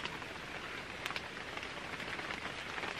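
Rain falling outdoors in West Cork, Ireland, a soft, steady patter of drops striking surfaces with a few slightly sharper splashes, fairly quiet and continuous with no talking.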